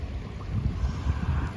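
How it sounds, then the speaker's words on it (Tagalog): Big sea waves rolling and surging near the shore, a low rumbling wash buffeted by wind noise on the microphone, continuous and fairly loud. "Nakikita nyo ba yung malalaking alon guys?"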